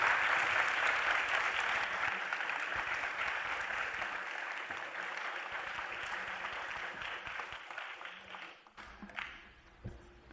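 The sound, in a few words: audience applause for the panel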